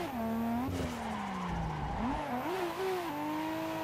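Car tires squealing through a clutch-kick slide in a touge racing game on Tsukuba's fruit lines, a steady pitched screech that bends and wavers over a revving engine, loud and close.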